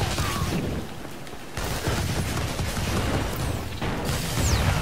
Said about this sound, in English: there's like a couple guys shooting the shit out of me on this side